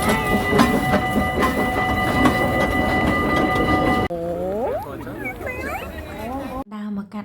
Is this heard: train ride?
yes